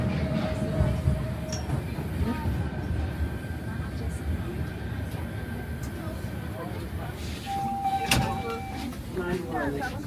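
A Toronto subway train pulls into Eglinton Station, a steady rumbling rush of wheels and car noise with a brief high whine and clicking toward the end, heard from inside the car with an automated voice announcement over it.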